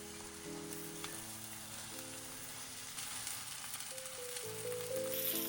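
Fish fillets fry skin side down in lemon pepper butter over medium heat, giving a steady, gentle sizzle that continues throughout with faint crackles and no voices.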